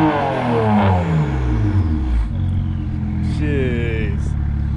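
A tuned 400-horsepower BMW 335i with a turbo-back exhaust revs loudly and close, its engine note rising and falling in sweeping pulls, with voices talking over it.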